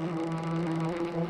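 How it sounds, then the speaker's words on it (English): A cartoon bee buzzes in the Peppa Pig Golden Boots game, a steady close drone with a clear hum, heard alone for just over a second. "Well, I see a bee."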